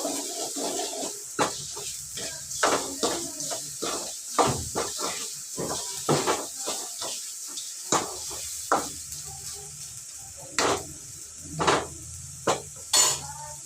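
Onions, coarse salt and chili cook in a little oil in a pan, giving a soft sizzle under repeated close clinks and scrapes of a spoon stirring against the metal.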